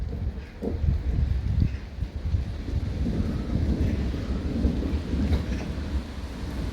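Constant thunder rolls on through a rainstorm, a deep continuous rumble with small surges, mixed with rain and gusts of wind hitting the microphone.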